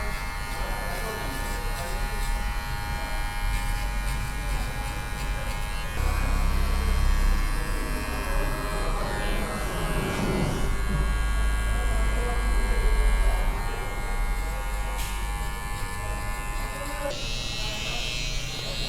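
A large electric hair clipper buzzes steadily while taking a man's hair down to zero for a mid fade in a barbershop, a close, continuous drone with louder stretches as it presses against the scalp.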